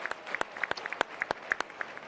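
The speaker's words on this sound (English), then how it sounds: "Let's give Brandon a round of applause." A conference audience applauds at a forum, a steady patter of close, crisp individual claps with sharp spikes, continuing without voices.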